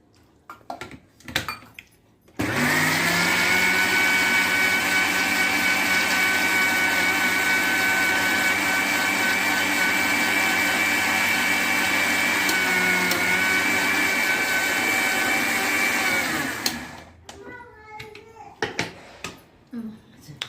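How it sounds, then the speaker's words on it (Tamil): A kitchen mixer grinder blends spinach (palak) with water for another round, a loud steady whine that runs for about fourteen seconds and then cuts off, with faint voices and kitchen noise before and after. "இன்னொரு சுத்து அரைக்கணும் போல் இருக்குது அப்பா இன்னொரு சுத்து அரைக்கிறாங்க"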